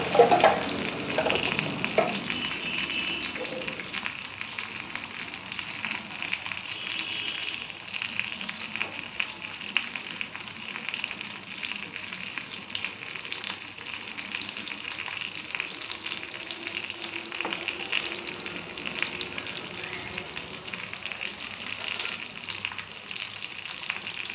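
Tempering of asafoetida with onion pieces sizzles steadily in a pan for drumstick sambar, a soft continuous frying crackle held at moderate level throughout with a few faint stirring scrapes, no voices.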